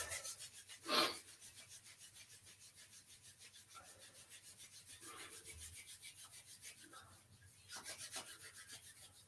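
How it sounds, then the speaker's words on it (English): Two hands rub briskly together during a shiatsu and energy work class. The sound is a faint, steady, rhythmic dry friction that continues throughout, with one louder brush near the start. "shaking out the wrists, rubbing our hands together"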